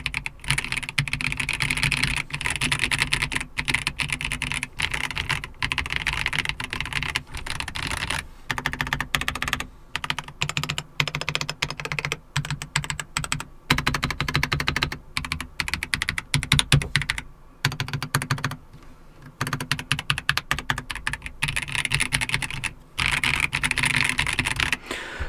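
Typing on a Logitech G316 X 98 mechanical keyboard with double-shot keycaps: a dense, continuous run of close clicky keystrokes with brief pauses, no talking.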